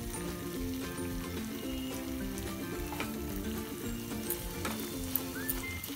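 Tomatoes with a little salt sizzle and fry steadily in a pan for shahi paneer over medium heat, a continuous close crackle with scattered pops and no talking.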